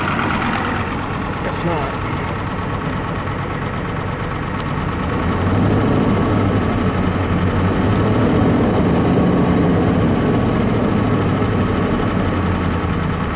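A truck engine idles steadily and close by, a low continuous rumble that grows slightly fuller and louder partway through, with a person speaking briefly over it near the start.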